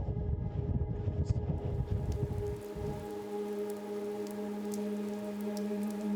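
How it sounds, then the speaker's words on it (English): Steady rain falls outdoors on a desert film location, a dense continuous hiss of drops with a low rumble that drops away partway through, no voices heard. "It's raining and we've just lost the sun"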